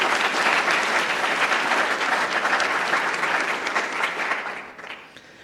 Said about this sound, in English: Let's give them another round of applause for all these efforts.